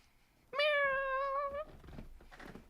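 A single clear cat meow, played as a stream donation alert, rises sharply for about a second and then fades into quiet background noise.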